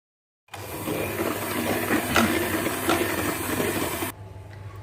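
Electric mixer beating a yogurt cake batter, a steady close whirring drone with a constant hum that runs for several seconds and then cuts off abruptly.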